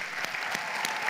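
An audience breaks into dense, steady applause for a woman named Tamara, a brief burst of many hands clapping together at an even loudness.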